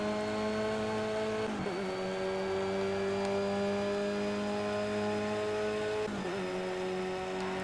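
A Renault Clio Cup race car in the Project Cars racing game, its engine holding a steady high-revving whine under full throttle, broken by two quick upshifts with a brief dip before the note climbs again, loud and continuous.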